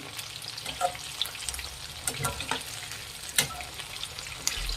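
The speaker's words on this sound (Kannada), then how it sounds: "ಒಂದು ಕಡೆ ಬೆಂದಿದೆ ಇನ್ನೊಂದು ಕಡೆ ತಿರುಗಾಕೊಳ್ಳೋಣ" Kebab pieces fry in a pan of oil, a continuous close sizzle with scattered crackles and a few louder pops, with no voices.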